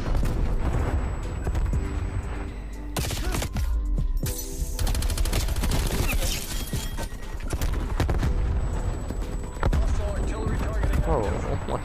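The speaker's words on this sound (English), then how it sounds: "Artillery inbound." In Call of Duty Cold War, an artillery strike lands as a string of heavy, broadband blasts and crackling bursts, loud and close, mixed with other game noise and a voice.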